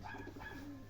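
Pigeons cooing softly at a rooftop coop in Chirchiq, low murmuring calls under faint background noise.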